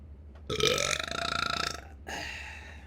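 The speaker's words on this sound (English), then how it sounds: "And there's the obligatory burp." A long, loud, close burp with a rough rattling buzz, followed by a shorter second belch after a brief pause, over faint background hum.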